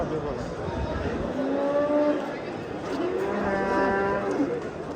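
A cow at a livestock market in Qibray district, Tashkent region, gives two drawn-out moos, each several seconds long, over faint background murmur.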